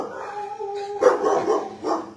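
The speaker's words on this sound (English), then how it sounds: "Why do you gotta bark so much?" A dog at an animal shelter gives a whining, howl-like bark followed by a few short yips, close and fairly loud.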